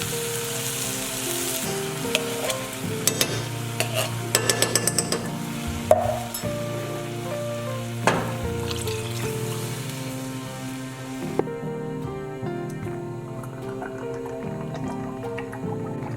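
Two cans of coconut milk and a cup of water go into a curry pot of sizzling curry paste and avocado oil, a steady pouring, dripping wash with a few sharp clinks, under background music.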